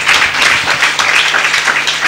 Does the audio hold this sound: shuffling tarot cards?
no